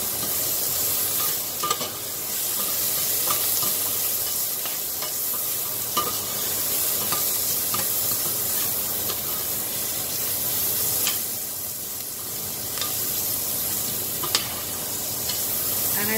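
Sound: chopped onion frying in pan

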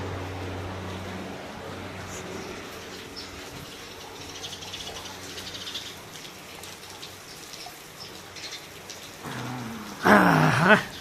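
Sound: rain

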